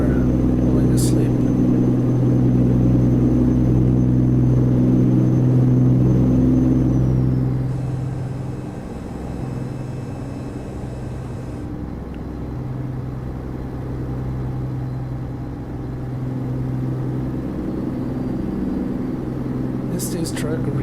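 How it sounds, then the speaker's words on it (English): Heavy truck engine in the SnowRunner video game rumbling loudly and steadily, dropping to a lower idle drone partway through, with a faint air-brake hiss near the end. "Is this truck really, really, really loud on the stream, or is it okay?"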